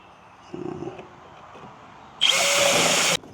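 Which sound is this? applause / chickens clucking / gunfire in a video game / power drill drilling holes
power drill drilling holes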